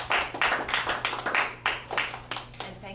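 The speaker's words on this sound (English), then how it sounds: "Let's give a round of applause to all of our presenters, please." Applause for presenters at a talk, a smallish scattered clapping from a few audience members with distinct separate claps, fairly close and moderately loud.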